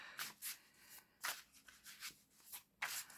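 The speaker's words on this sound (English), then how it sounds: "I feel that is quite enough of shuffling." Cards are shuffled for a reading, a series of soft riffling bursts close by, several quick rustling strokes spaced irregularly, quiet and with no talk.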